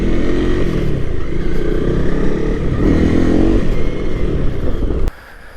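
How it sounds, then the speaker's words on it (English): A Honda CRF 250 Rally dual sport motorcycle rides past loud and close, its engine droning and pulsing steadily for several seconds before cutting off abruptly. "it's a neat little dual sport motorcycle"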